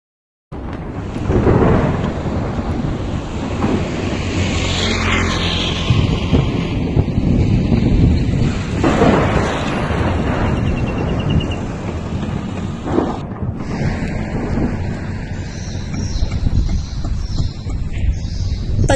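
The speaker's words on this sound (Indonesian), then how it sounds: "Salah satu contoh pencemaran suara alami adalah suara petir atau guntur." Thunder rolls and rumbles at length, loud and deep with rain and wind gusting against the microphone, several swelling crashes across the storm.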